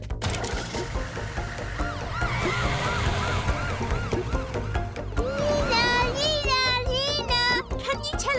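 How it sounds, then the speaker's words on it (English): Cartoon fire truck siren being tested, a wailing, rising-and-falling tone that grows stronger and more insistent in the second half, heard under lively cartoon voices and background music. "But we didn't test the siren yet. We'll do it on the way."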